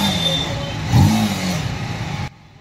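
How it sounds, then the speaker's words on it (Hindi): A TVS Apache RTR 310 motorcycle idles with a throaty exhaust, then revs up sharply for about a second before settling back and cutting off abruptly. "तो दोस्तों आप सुनते हैं इस बाइक का एग्जॉस्ट सिस्टम"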